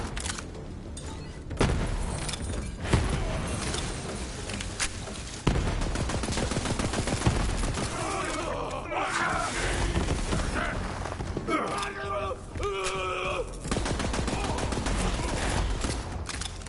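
Gunfire in Borderlands 3, with repeated weapon bursts and thumps in a busy game mix. Bright crackling shots cluster in the middle and late stretches over steady background rumble.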